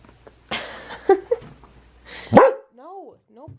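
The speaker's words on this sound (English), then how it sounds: "No barking." A small dog gives a few sharp barks and yips up close, broken by brief whimpering squeals, while a person speaks over and between them.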